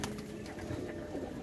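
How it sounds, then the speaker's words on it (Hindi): Pigeons coo softly in a short, low murmur close behind, a steady burbling with no talk over it. "दोस्तों ये कुछ कबूतर हैं, आप देख सकते हैं मेरे पीछे"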